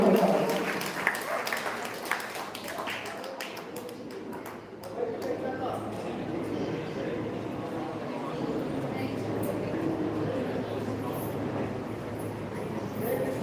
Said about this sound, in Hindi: एक बार जोरदार ताली बजाना